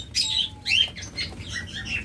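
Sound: small quail birds fluttering and chirping

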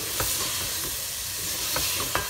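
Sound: cauliflower and potato stir-frying in oil

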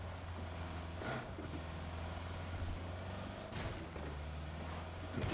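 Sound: gunshots from behind a hill in a video game

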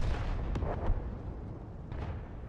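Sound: tank cannon firing in World of Tanks video game

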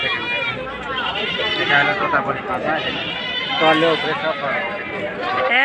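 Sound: goat bleating, Chotapuri buck goat

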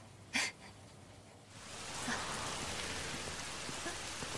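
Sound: rain falling

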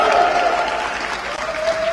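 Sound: audience cheering and applauding

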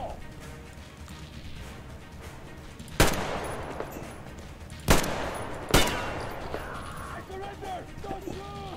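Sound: gunfire from the player's gun in video game Metro Exodus

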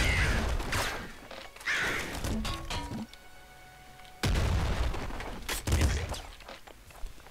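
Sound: shotgun firing in the video game Nuclear Throne

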